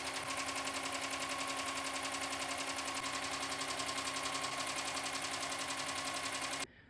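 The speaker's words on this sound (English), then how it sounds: "we're going to put the hoop back into the machine and run the final color of the design" An embroidery sewing machine stitches the final color of a stained glass design with puff foam, a steady, fast mechanical whir with rhythmic needle clatter running loud and continuous until it stops abruptly near the end.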